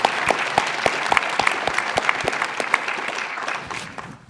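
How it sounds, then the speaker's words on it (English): Warm applause from an expo audience in Nashville, honoring military veterans; a crowd clapping steadily with distinct individual claps standing out near the front, tapering off at the end. "can we get a round of applause, please?"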